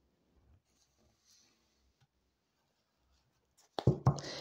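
A mirror oracle card deck is shuffled in one short, crisp rustling flutter that breaks a long near-silence right at the end.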